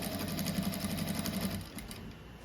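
A new sewing machine stitches a simple rug, its needle running in a fast, even mechanical rattle close by for most of the moment before slowing and stopping near the end.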